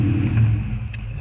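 Ford Mustang Foxbody with a Coyote engine revs low and steady, a deep rumbling drone that swells slightly and holds, close and loud with no talk.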